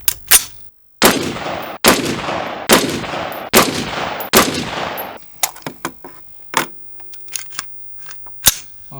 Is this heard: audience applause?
no